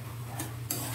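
Adobong sitaw with pork, green beans in soy sauce, stirred in a pan with a spoon, producing a couple of quick scraping clinks over a soft steady sizzle, close up and brief.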